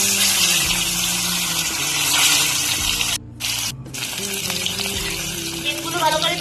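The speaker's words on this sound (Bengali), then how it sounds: "ডিমগুলো ভালো করে ভেজে নেব" Duck eggs beaten with turmeric and salt fry in hot oil, making a loud, steady, crackling sizzle that runs throughout with a brief dip partway.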